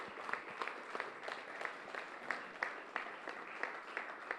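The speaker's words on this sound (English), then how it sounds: "let's give another round of applause for both of the teams, our winner and our runner-up" Quiet applause rises from the audience at a high school mock trial state championship, with distinct individual claps standing out in an irregular patter that stays faint and distant throughout.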